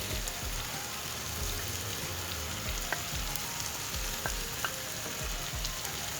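Meat and potato pieces sizzle steadily in a pan for sauté, a dense crackling hiss with occasional brief clinks of stirring, moderately close and with no talk.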